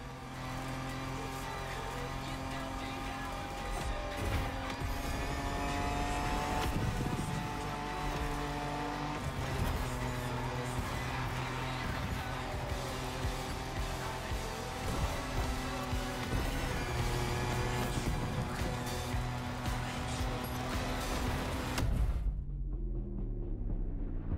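Cars racing off-road in The Crew Motorfest, engines roaring loud and continuous with tyre squeals and skidding on loose ground, a dense run of driving noise that cuts off abruptly near the end.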